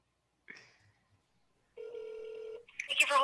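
A phone call being placed: a short tone blip, a pause, then a steady electronic ringback tone for about a second, followed by a voice answering on the line.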